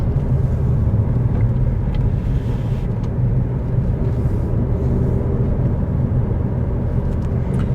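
Interior engine drone of a 1.6-litre naturally aspirated hatchback, a Swift Sport or Fiesta S1600, pulling from 30 mph in third gear, a steady loud low rumble with road noise throughout and no talking.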